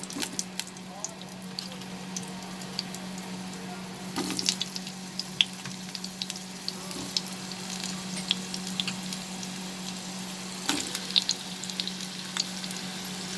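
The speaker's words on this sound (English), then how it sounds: "We'll fry the potatoes till it becomes slightly golden in color." Potatoes fry in a pan of hot oil for an okra dish with mustard and poppy seed paste, giving a steady, moderate sizzle with a few scattered pops and stirring clinks.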